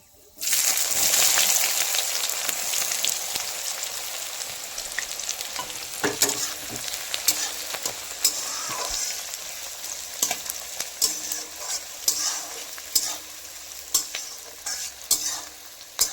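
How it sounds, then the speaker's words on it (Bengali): Chopped onions hit a hot pan of oil in a Bengali kitchen, a loud sizzle bursting at once, then a steadier frying hiss broken by scraping clicks of a spoon stirring them around, with no voices. "তারপরে পেঁয়াজ অ্যাড করছি"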